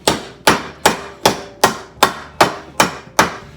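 Nine evenly spaced, sharp metallic-wooden strikes of a hammer on a wood block against car floor pan sheet metal, close and loud, each ringing briefly before the next blow in a steady rhythm.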